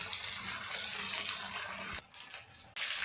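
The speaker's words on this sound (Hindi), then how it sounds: "इसको फ्राई करेंगे ब्राउन होने तक" Pieces of arbi (taro root) fry in hot oil toward browning, giving a loud, continuous hissing sizzle that dips sharply for a moment before surging back, with no one talking.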